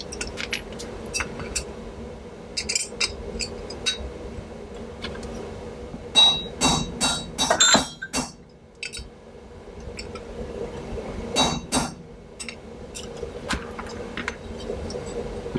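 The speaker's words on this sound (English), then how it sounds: "Now you can use the longer roll pin punch" Metal hammer taps on a roll pin punch while seating the pin of an AR-15 trigger guard, heard as scattered sharp clinks and clusters of quick taps over a low room hum, no voices.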